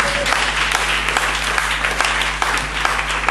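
A church congregation applauds and cheers Jesus Christ during a sermon, a dense, steady wash of clapping that stays loud and continuous throughout.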